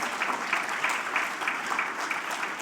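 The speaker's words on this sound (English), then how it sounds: "Because y'all deserve a huge, huge hand of applause." Applause from the room at an AI and education summit awards ceremony, honoring the reviewers: a steady, dense wash of many hands clapping at moderate volume, sustained throughout with no talk over it.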